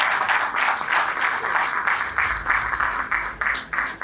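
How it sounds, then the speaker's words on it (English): An audience at an SBI conclave in Jodhpur breaks into loud, sustained applause, dense clapping rolling on evenly near the microphone before starting to thin at the end. "Big round of applause for my wife here."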